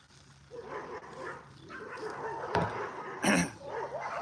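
Brindle Belle and a neighbor's dog scuffling outdoors, with scattered growls, yips and a sharp burst of barking near the end, close and moderately loud over steady background noise.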